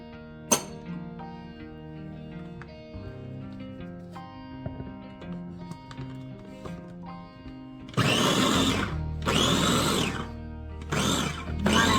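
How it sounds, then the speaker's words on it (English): A food processor pulses basil with salt and olive oil in several short bursts, loud and close. Quieter kitchen sounds come before the pulses. "give it a few pulses to get it all mixed up and chopped up together"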